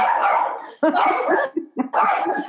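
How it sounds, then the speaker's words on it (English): A dog barks loudly and nearby in a series of rough barks with brief gaps between them, mixed with yips and whimpers, indoors with no one talking. "We thought we might have some dog interaction."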